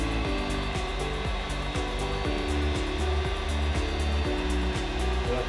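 Heat gun blowing hot air onto a styrofoam foam shell, a steady loud whooshing roar with a pulsing motor whine, continuous throughout and heard alone.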